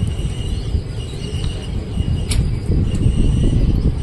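A superfast passenger train rolls along the line near Vadal, steady low rumble of wheels and carriages with faint metallic squeals and clicks, continuous and fairly loud throughout.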